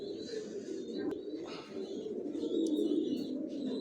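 Racing pigeons cooing in a breeder's loft, a low continuous murmur of overlapping coos from several birds close by, with a few faint chirps and a brief wing flutter.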